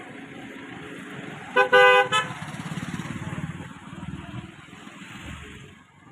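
Vehicles lined up at the Karnataka-Maharashtra border checkpoint near Mhaisal and Kagwad, a short car horn toot followed by a longer blare and another brief honk over idling engines and low road rumble.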